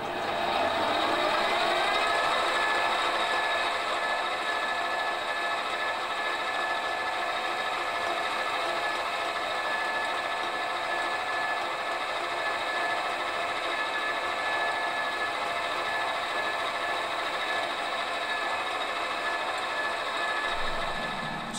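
A metal lathe takes a final cut on fine feed while turning a wheel hub for a small engine governor, giving a steady continuous mechanical whine and hum that stays even throughout.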